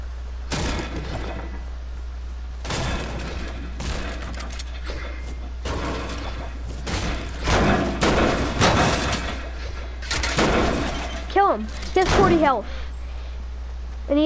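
A Fortnite player smashes objects with repeated sharp, loud impact cracks spaced a second or two apart, punctuated by squealing pickup chimes near the end, over a steady low hum.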